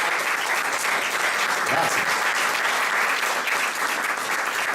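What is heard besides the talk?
audience applause at festival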